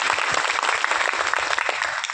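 An audience at a gathering in India claps in thanks, a fairly close, steady patter of many hands throughout.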